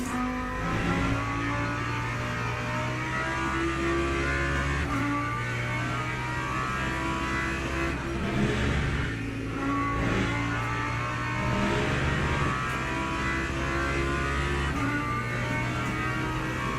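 Racing car engine on the Mulsanne straight in the iRacing/LMU sim, a loud steady high-revving drone held at speed, with brief dips and pitch shifts through gear changes.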